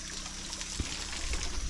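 Water running and trickling for children's shower in a Nyabohanse village in Africa, a faint continuous splashing flow with soft thumps, close by and alone.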